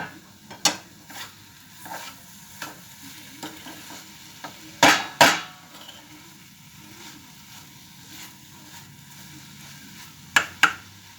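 Carrot halwa cooks in ghee in a pan with a soft steady sizzle, while a spoon stirs and scrapes, giving occasional sharp clinks against the metal pan at close range.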